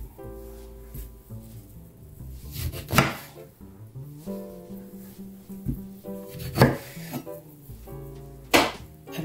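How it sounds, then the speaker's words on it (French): A knife slices through oranges, halving them on a board, giving a few sharp juicy cuts and thuds spaced a couple of seconds apart over soft background music. "Donc je vais les couper en 2"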